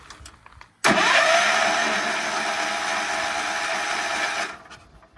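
An Allis Chalmers 712S barn-find tractor engine cranks over on the starter, a loud, steady whirring drone that kicks in abruptly and runs for several seconds before cutting off.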